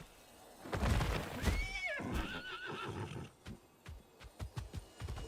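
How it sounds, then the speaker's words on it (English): A horse in a video game gives a loud, wavering whinny, followed by a run of rhythmic hoof clip-clops close by. "There's a whole ass horse."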